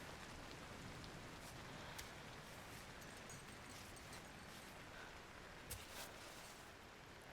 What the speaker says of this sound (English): thank God the fucking rain is finally gonna stop